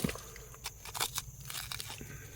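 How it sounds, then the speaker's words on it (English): Quartz crystals from a vein at Wetumpka Impact Crater crunch like glass in faint, scattered gritty cracks and scrapes, close by and fairly quiet. "You can hear it crunch like glass."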